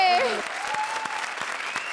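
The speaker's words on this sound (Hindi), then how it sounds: "जोरदार तालियां जिमी, टीना और सूरज के लिए." Strong applause from the studio audience of the Comedy Circus 3 Ka Tadka comedy show, a continuous close roar of clapping that starts under a host's brief raised voice and then carries on alone.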